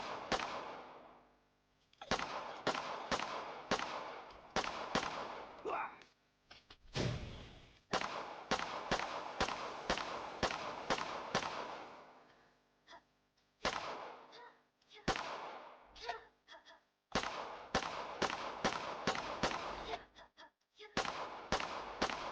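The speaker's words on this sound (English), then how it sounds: "I swear I'm getting hurt by my own grenade." Repeated sharp bursts from the video game The After Hours: Office Predators, fired in quick rapid runs separated by short pauses, loud and close, with voices talking between some bursts.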